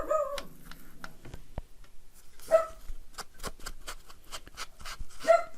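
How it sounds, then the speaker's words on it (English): Dogs barking indoors, with sharp, separate barks in irregular bursts, some close and loud, others quicker and fainter, along with brief whimpering and panting sounds between them. "The dogs upstairs are barking, so they're making my dog bark."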